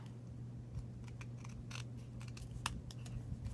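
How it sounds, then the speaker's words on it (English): Scissors snip excess paper card off a handmade submission card in a series of quick, close, quiet cuts with small rustles between them, over a low steady hum. "and cut the excess off."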